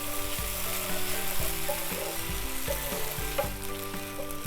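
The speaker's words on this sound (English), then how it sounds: "now I'm going to add a nice teaspoon of ginger garlic paste to this" Ginger garlic paste frying in a pan for Andhra fenugreek chili chicken, a steady close sizzle with repeated stirring scrapes and clacks in an even rhythm, no voices.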